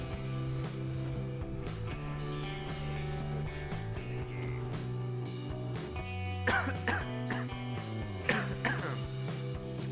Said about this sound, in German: Kleiner Husten.